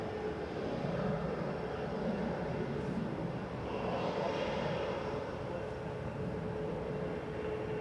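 An Airbus A320 arriving from Munich at Manchester Airport gives a continuous broad engine rumble, moderately distant and fairly even throughout, with no voices over it.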